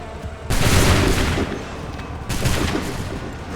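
In Assassin's Creed III, a line of muskets fires two ragged volleys, each a loud crackling burst of many overlapping shots that trails off into echoing noise.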